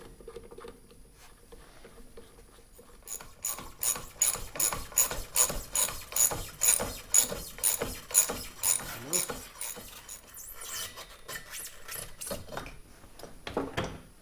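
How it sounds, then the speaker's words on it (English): A ratchet turns a bolt into a threaded hole during a clutch install on a Can-Am XMR 850, giving a rapid, steady clicking of the pawl in bursts that stop and start, close and clear with no talk. "So we put the bolt in the threaded hole."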